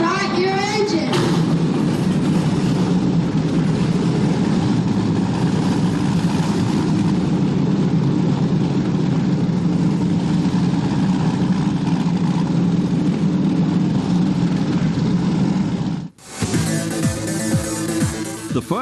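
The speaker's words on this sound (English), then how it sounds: "Gentlemen, start your engine." Race boat engines start up and settle into a loud, steady idle at a world championship powerboat race, the drone holding for about fifteen seconds before a sharp cut to other loud sound.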